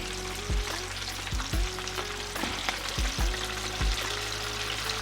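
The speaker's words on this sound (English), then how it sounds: "there's our 4th piece going into the fryer" Chicken wings deep frying in a fryer, a dense steady bubbling sizzle close up, punctuated by several low knocks and thuds, with no one speaking.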